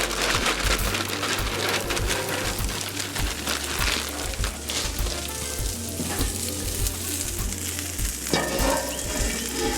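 Three bags of stir-fry mixed vegetables sizzle loudly on a griddle, a dense continuous hiss with repeated scraping and tapping of a spatula against the metal surface throughout.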